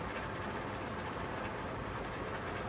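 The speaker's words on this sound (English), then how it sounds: "Obviously the noise you're hearing apart from this is my fan," An electric fan runs steadily close by on a warm day, giving a constant, even whooshing hum that never pauses.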